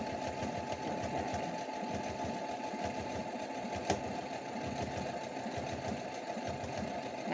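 A home sewing machine running a stretch stitch on a stretchy bralette with Velcro, a steady close mechanical whir with a fast needle rhythm and one small click midway, no talking.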